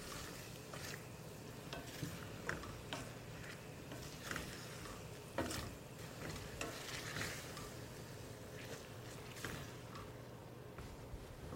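Beef sautéing in a hot pan sizzles steadily while being stirred, with soft scraping and clinks of the utensil against the pan at irregular intervals, close and moderately quiet.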